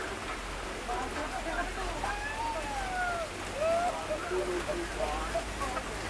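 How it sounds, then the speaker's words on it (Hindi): Steady rain falls in a constant hiss close by while someone talks over it, heard on a train journey through hilly country toward Mizoram. "अभी देखो बारिश थोड़ी सी कम हुई है"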